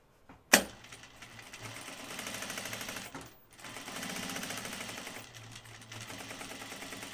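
Sewing machine running a continuous line of top stitching on a flight suit, a fast steady mechanical whir with a brief pause midway and a sharp click near the start.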